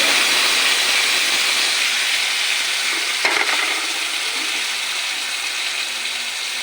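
Onions fry loudly in a pan, a dense close hiss with a brief scrape of stirring partway through.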